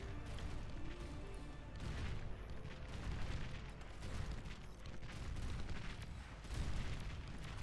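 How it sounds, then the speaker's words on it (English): Dense battle noise from the strategy game Beyond All Reason, with missile units launching into the air among repeated booms and rumbling blasts that keep overlapping at a loud, steady level throughout. "looks like the missile guys are shooting the air"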